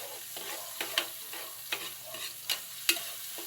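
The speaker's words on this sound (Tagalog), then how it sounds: "Sabay ko na rin ang sibuyas. Halo-halo lang." Onions being stirred in a sizzling frying pan, with repeated scraping strokes and soft clacks of the utensil roughly every half second over a quiet, steady frying hiss.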